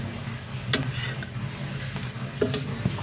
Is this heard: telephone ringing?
no